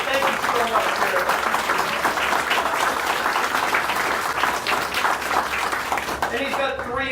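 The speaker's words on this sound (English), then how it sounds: "Carrie, we got to give you the round of applause for this." A room applauds Carrie, the wife of an honoree at a gathering with a sheriff, in steady dense clapping that runs throughout and tapers near the end, with voices mixed in.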